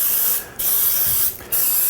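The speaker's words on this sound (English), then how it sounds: "And then I take and use the spray." Cooking spray hissing into a baking pan for brownies in two loud, steady blasts of about half a second each, separated by short pauses, with no voices.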